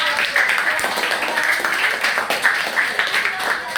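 A classroom group claps for a team of students, with irregular, uneven handclaps from a modest number of people and a faint murmur of voices mixed in.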